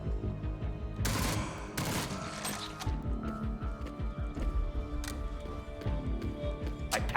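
An auto rifle fires in the Jupiter Hell video game: a few loud, sharp bursts early on, then scattered single cracks over a busy game soundtrack.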